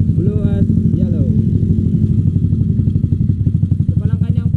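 A modified Yamaha Mio 218cc scooter with a four-valve setup idles nearby, a loud, fast, steady throbbing pulse, with someone speaking over it at moments.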